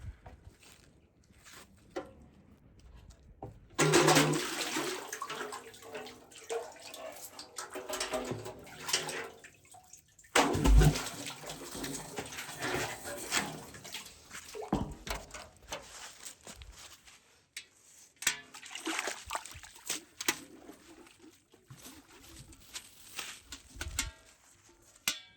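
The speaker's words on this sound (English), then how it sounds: "Now I'm heading to the well to draw fresh, clean water" A bucket draws fresh water from a countryside well: two loud splashing, sloshing bursts stand out amid quieter clanks, drips and handling sounds close by.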